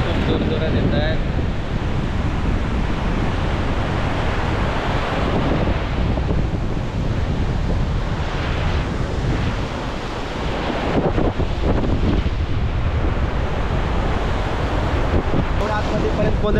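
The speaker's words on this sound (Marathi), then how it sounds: "लाटा खरंच खूप जोर जोरात येत आहेत." Strong ocean waves crash and surge continuously at Diveagar beach on the Konkan coast, a loud, steady roar of surf with heavy wind buffeting the microphone throughout, close to the listener in knee-deep water.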